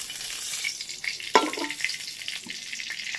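Oil poured into a hot pan while cooking chicken keema rice gives a sharp hiss at first, then a soft, steady sizzle that carries on close by, with no talking.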